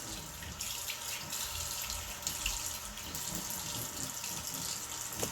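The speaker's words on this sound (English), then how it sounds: "Let me go ahead and rinse it off really quick." Steady broadband rush of water running from a tap into a sink while soap is rinsed off a face, continuous and fairly loud with no talking.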